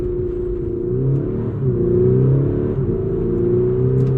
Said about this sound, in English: We'll do a 0 to 60 launch and you can see just what it's like.